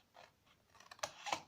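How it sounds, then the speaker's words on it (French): Scissors snip through paper while a card pouch is cut out: a few short, close crisp cuts, growing louder toward the end, with no talking. "Donc, je découpe."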